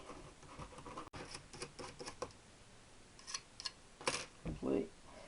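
Old gasket material is scraped off engine parts by hand, giving quiet, close, irregular scratching strokes with a few sharper clicks and scrapes.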